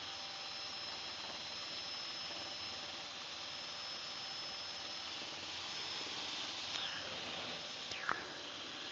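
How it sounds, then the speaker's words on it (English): Helicopter engine and rotor running in flight at roughly 105–110 mph ground speed, heard from inside the cabin as a steady, even, hissing drone throughout, with a couple of faint clicks near the end. "Helicopter's running good."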